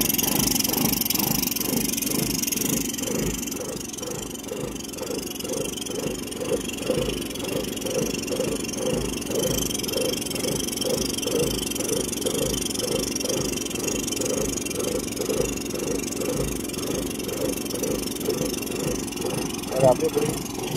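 Suzuki Access 125 scooter with a slow-speed problem runs steadily, a mid-pitched engine chug pulsing in an even rhythm at close range, while someone talks over it.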